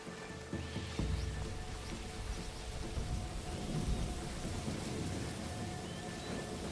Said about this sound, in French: Ah, la pluie, ça pourrait bien m'aider.